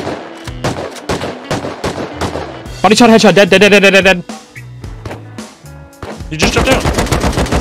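Rapid automatic gunfire and single shots from the survival video game Rust crackle in loud bursts, with a dense metallic rattle in the middle and another volley near the end, while players talk over the shooting.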